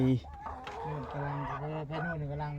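Chickens on a small home farm cluck and call repeatedly, with nasal honking tones close by and voices in the background.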